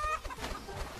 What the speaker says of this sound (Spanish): Una gallina negra, what?